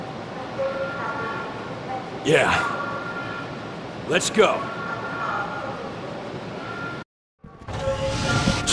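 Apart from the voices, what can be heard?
train arriving, from the video game Resident Evil: The Darkside Chronicles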